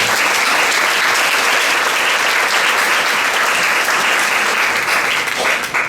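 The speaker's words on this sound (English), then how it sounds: "I'm sure we can give her a round of applause" An audience at a memorial lecture at a college gives a sustained round of applause, loud and continuous clapping from many hands that fades slightly at the very end.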